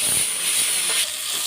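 Pumpkin pieces sizzling in hot oil with turmeric, salt and chili, a bright steady hiss close by that drops slightly partway through, with a few faint clatters underneath.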